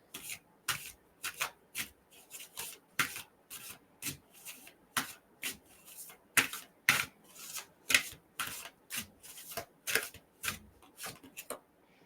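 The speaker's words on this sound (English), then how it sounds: "let's pick some ancestor cards for you" Oracle cards are shuffled by hand for an ancestor card reading, giving a steady series of about twenty close, crisp rubbing and riffling strokes, each about half a second apart, with quiet gaps between and no talking.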